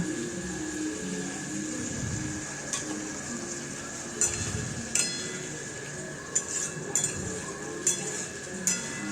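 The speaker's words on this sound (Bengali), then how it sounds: "জল দিয়ে আরেকটু ভালো ভালো করে আমি নাড়াচাড়া করে নেব" A spatula stirs pumpkin curry in a pan after hot water is added, with a low steady simmer underneath and occasional sharp metallic clinks and scrapes, sparse at first and more frequent later, close and fairly quiet.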